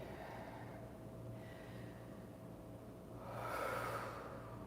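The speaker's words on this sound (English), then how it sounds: "Let your breath be big and loose." Deep breathing during a kundalini yoga session, slow, airy inhales and exhales close to the ear, with a fuller breath swelling near the end over a quiet low hum.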